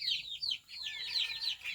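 Chickens cluck and chirp continuously at close range, a busy flock of high, rapid calls with no one speaking.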